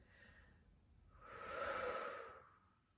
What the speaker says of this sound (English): Nice, big, beautiful, sweeping exhales.